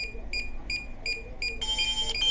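A series of short, high electronic beeps from a DJI Mavic Air 2 remote controller during pairing, repeating at a steady pace, then a denser burst of rapid beeping toward the end.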